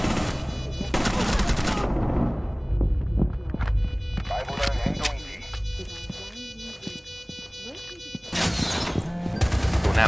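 Gunfire in Rainbow Six Siege comes in loud broadband bursts at the start and end, with scattered sharper shots and clicks in between, mixed with game noise.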